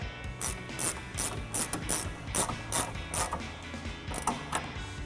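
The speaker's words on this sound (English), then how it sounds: "Grab our 14mm ratcheting wrench and a 6mm wrench to hold the top and tighten that down." A 14mm ratcheting wrench clicks in repeated bursts while tightening a shock absorber nut during a Rough Country 3.5-inch suspension lift install on a Toyota Tacoma, close up and alone, with about a dozen quick ratchet strokes.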